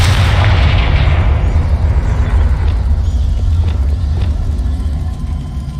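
A Confringo fire spell blasts in Hogwarts Legacy, a heavy booming explosion up front that rumbles low and loud before fading into a long roaring tail, with faint crackles scattered through the decay.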